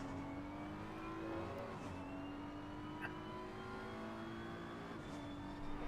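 A race car engine in the RaceRoom and ACC VR racing game drones steadily, its pitch rising in long revving sweeps as it accelerates through gears, with brief shifts between them.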